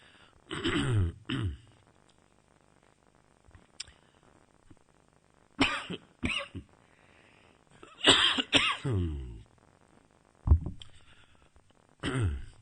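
Several bursts of coughing and throat clearing, close and fairly loud, separated by quiet pauses.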